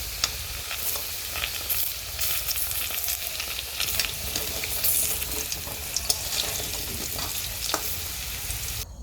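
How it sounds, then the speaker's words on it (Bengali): Potatoes fry in hot oil with a steady, dense sizzle and crackle, joined by occasional scraping and clinking as they are stirred, with no one talking. "লাল লাল হয়ে গেছে আলুটা, মানে আলুটা ভাজা হয়ে গেছে"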